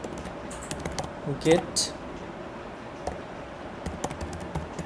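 Code being typed on a computer keyboard: scattered, fairly quiet key taps with one louder burst, under a brief spoken word.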